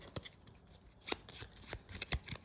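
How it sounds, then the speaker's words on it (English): A deck of board game cards riffled and shuffled by hand at close range, a run of quick crisp flutters and slaps in uneven bursts, with no talking. "So shuffle these up."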